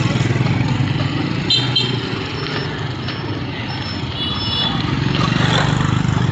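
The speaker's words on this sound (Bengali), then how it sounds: "এখানে দেখতেই পারতেছেন রাস্তায় কত মোটর সাইকেল।" Many motorcycles fill a street in Vietnam, their engines merging into a steady, continuous drone of nearby traffic that rises and falls slightly throughout.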